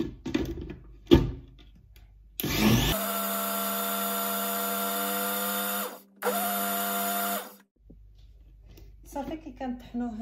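Crepe batter churning in a blender: a loud, steady high motor whine that starts abruptly, cuts out briefly and resumes for a second run, with a speaking voice and clatter before and after.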